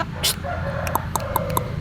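Short clucks from a chicken, a few spaced calls over steady low background noise, fairly close.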